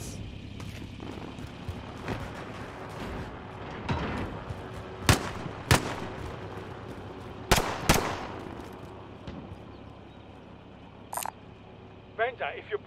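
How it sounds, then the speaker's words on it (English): Call of Duty Warzone gunfire and explosions, scattered sharp shots and booms of varying loudness over a steady low game rumble, with quiet speech in places. "Okay, explosions."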